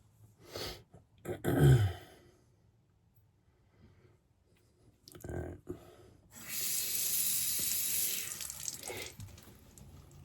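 A water tap running to wet the face before a straight razor shave, a close hissing stream that starts and stops in short bursts, then a longer steady flow, with splashing and faint breathing sounds between.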